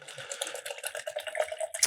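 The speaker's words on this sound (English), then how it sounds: "Put some water in here." Water trickling into a cup, a bright splashing pour with small bubbling surges that swell near the end, close and moderately loud.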